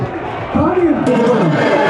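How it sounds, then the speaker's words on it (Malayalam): Kaniyan's fans roar and cheer at a boat race, a loud crowd swell with a rising shout and applause that builds midway and holds to the end. "കാണിയന്റെ ഫാൻസ് നല്ലൊരു കയ്യടി."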